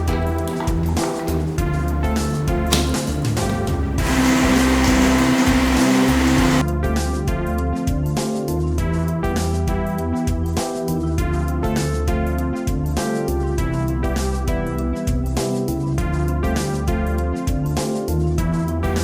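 A blender runs steadily, blending fruit for homemade popsicles, loud and continuous under background music, with no voices.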